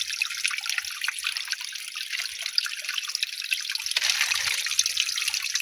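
Water from a river running out of a hose, a continuous bright splashing trickle, steady and close, with no talk.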